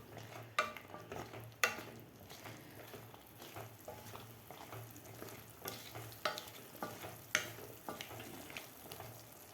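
Cooked chickpeas are stirred into masala in a pan for chana pulao, with soft clinks and scrapes of a spoon over a low sizzle. The sound is quiet and close, and no one speaks.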